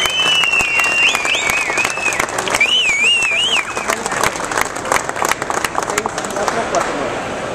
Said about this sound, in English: how about a round of applause for the Afterburner